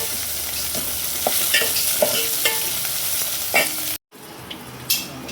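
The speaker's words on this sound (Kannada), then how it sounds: "ಚೆನ್ನಾಗಿ ಫ್ರೈ ಮಾಡ್ಕೋಬೇಕು" Onions frying in a pan for tomato rasam, a steady close sizzle with scattered stirring scrapes and clicks, briefly cutting out then resuming.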